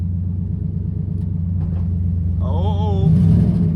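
Race car engine idling on the trans brake inside a shop, a loud close low rumble that swells slightly near the end alongside a brief higher whine.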